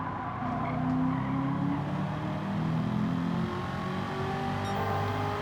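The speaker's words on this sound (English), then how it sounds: "You can hear that engine." A Pennzoil Corvette ZR1 race car in a racing game, running on a mountain trail circuit: a sustained, fairly close engine note that holds steady and shifts slowly in pitch, with a tyre skid mixed in.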